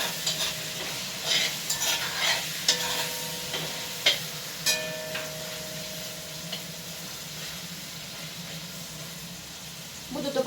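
Meat fries for plov in a pot, and a utensil stirs it with scraping, clattering strokes over a steady sizzle. The stirring comes in a busy burst, then the sizzle carries on alone.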